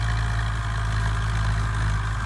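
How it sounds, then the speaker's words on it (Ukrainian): Tractor pulling an old seed drill while sowing winter wheat, its engine laboring under load in a steady, loud, continuous low drone with no talk over it. "Просто подивимося, як працює трактор."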